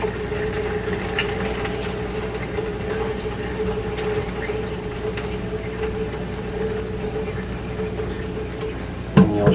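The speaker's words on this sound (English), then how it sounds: "Just slowly but surely pour it in there." Water pours steadily through a sieve holding hatched brine shrimp, a continuous splashing, trickling flow with a brief louder splash near the end.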